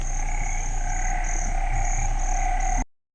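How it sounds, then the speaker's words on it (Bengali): Frogs croak in a forest at the start of the monsoon rains, a dense steady chorus with other insect-like droning tones, sustained throughout before cutting off abruptly. "এই যে শুরু হয়ে গেছে ব্যাঙের ডাক"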